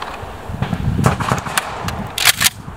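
Gunshot fired during a practical shooting stance demonstration: sharp reports at the end, loudest near the close, preceded by scuffing and handling noises at close range.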